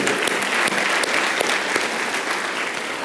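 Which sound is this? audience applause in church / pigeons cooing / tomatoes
audience applause in church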